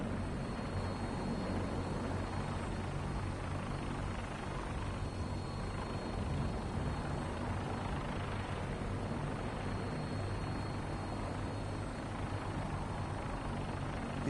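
A military gunship helicopter in the video game Fallout 4 flies with a steady, moderately faint rotor drone and engine hum throughout, with no speech.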